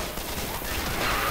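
Rapid gunfire in Left 4 Dead, a short, dense burst of shots that sounds continuous and fairly loud, with no talk over it.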